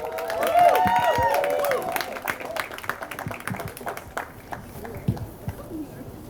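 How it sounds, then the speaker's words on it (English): Round of applause from guests at an engagement party, a dense burst of clapping that is loudest at first and then thins into scattered claps, with voices talking and cheering over it. "Let's get another round of applause for the sisters"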